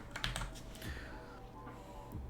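Code being typed on a computer keyboard, a quick run of light clicky keystrokes close up, irregular and unbroken, with a faint hum underneath and no talk.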